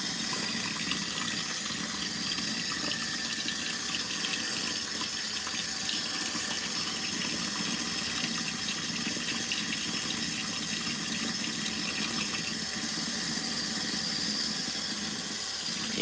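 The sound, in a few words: LG ThinQ washer filling with water for wash cycle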